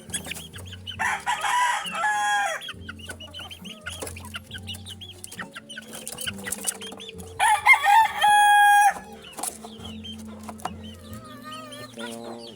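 Hens cluck and chatter close by while a rooster crows loudly a couple of times in long drawn calls amid the flock's steady low clucking.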